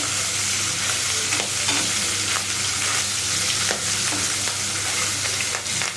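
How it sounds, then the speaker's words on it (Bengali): Fish frying in hot oil in a wok, a steady close sizzle and hiss with occasional crackles and light scraping of a turner throughout. "এই যে পেঁয়াজটা তেলে ভাজা নিলাম আর মাছগুলা ভাজা উল্টাই নিলাম"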